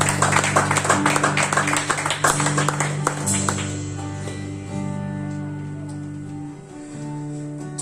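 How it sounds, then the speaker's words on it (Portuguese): A church congregation claps during a worship service, a few seconds of brisk clapping over sustained music that fades away, leaving the music playing alone. "Vamos aplaudir Jesus."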